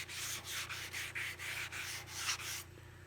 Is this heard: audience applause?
no